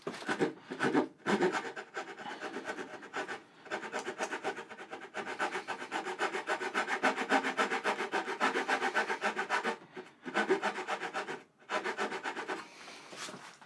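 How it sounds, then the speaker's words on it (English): Hand saw cutting straight across wood for a relief cut on a handcrafted dado tray, a steady close rasping in repeated strokes with a few short pauses, no talk. "I'm just going to saw straight across and angle down"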